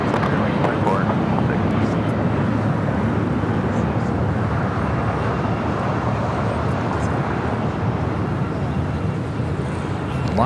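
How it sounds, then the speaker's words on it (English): A Spirit Airlines Airbus A320 jet bound for Dallas-Fort Worth at Los Angeles International Airport, heard as a steady, loud broadband roar that continues unbroken throughout, with a voice talking over it. "That was Spirit Airlines. It's a 2456 heading to Dallas, Fort Worth, Texas, and that A320."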